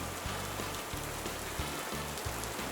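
Steady outdoor rain falling in a garden during doll play, a dense even patter with repeated low rhythmic thumps underneath, continuous and moderately loud with no voices.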